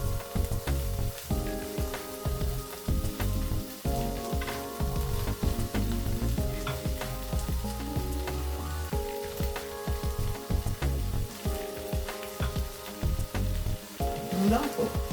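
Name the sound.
fried fish fingers sizzling in a pan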